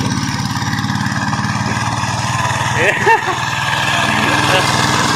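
A smoking engine on a farm machine runs steadily with a low, rapid chugging pulse, loud and close, while people talk over it.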